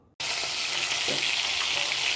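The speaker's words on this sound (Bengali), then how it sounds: "এখন মাছ ভাজছি" Fish fries in a pan with a loud, even sizzle that starts abruptly after a brief silence and carries on steadily, with faint crackles and no voices.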